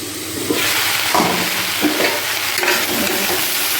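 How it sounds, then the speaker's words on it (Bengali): Vegetables frying in a pan with ginger paste and spices for a simple home lunch, a steady close sizzle with stirring and scraping clatters throughout, no talking. "সবজিটা একদম সুন্দরভাবে কিন্তু ভাজা ভাজি হয়ে যাচ্ছে"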